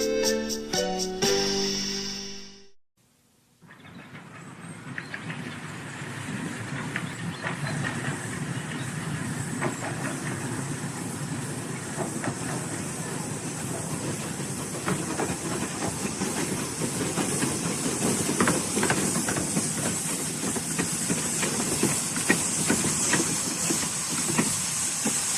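Steam locomotive engines being cleaned and polished in the shed let off a loud, steady hiss of steam that fills the space for over twenty seconds, with faint rail clatter and clanks beneath, after a brief burst of music and a short silence.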